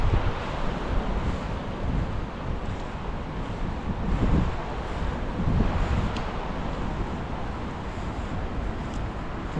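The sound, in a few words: river water flowing outdoors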